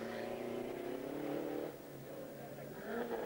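A Renault 5 GT Turbo rally car driven flat out on the 1989 Rallye de Vila Nova de Famalicão gives a faint, distant engine roar that rises and dips with throttle over a few seconds.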